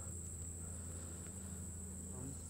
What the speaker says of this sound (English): There's tens of thousands of bees in a hive